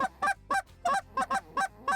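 A DRC goose call blown in a deep growling note gives a fast, rhythmic series of loud, close honks, roughly eight in two seconds. A human-blown call imitates the goose.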